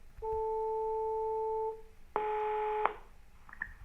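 Telephone dialing tones sound at low volume: one long two-tone beep, then a short pause and a second, brighter multi-tone beep, followed by faint line noise.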